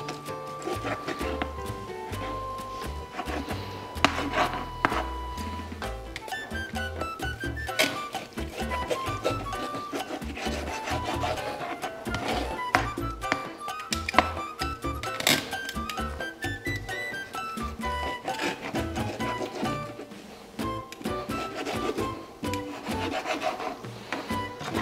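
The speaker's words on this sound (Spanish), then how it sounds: "con mucho cuidado vamos a estar picándolo en forma de juliana primero" A knife repeatedly cuts churrasco steak into thin julienne strips on a wooden board, steady rubbing and tapping strokes running throughout, with background music playing underneath.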